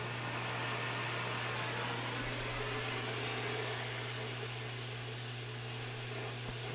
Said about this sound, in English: just to warm it up with a torch here